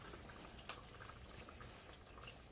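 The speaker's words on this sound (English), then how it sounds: "It's frying in its own juices." Quiet, steady sizzling and bubbling of meat frying in its own juices in a pan for tamales, with faint crackles and pops throughout.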